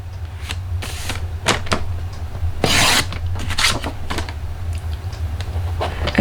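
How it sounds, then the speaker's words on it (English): A paper trimmer slicing through a sheet of cardstock, close by, with several short rasping strokes of the blade in quick succession over a quiet background. "So grab my paper trimmer, and we are going to go in"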